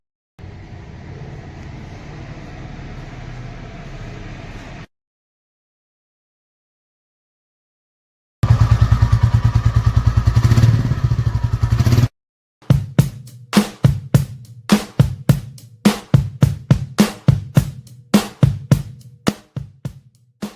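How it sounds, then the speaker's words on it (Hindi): A 2025 Royal Enfield Classic 350 motorcycle in gun metal grey: a steady engine hum, then a louder close-up running stretch after a pause, followed by a rapid train of sharp throttle blips or exhaust pops. "अभी आपके सामने जो गाड़ी है ये रहने वाली है classic 350 new variant 2025 model gun metal grey colour"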